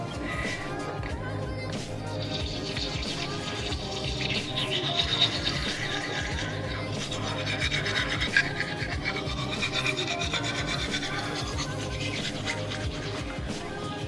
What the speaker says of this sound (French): je vais continuer à me laver les dents